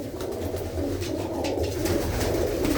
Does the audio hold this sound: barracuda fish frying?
no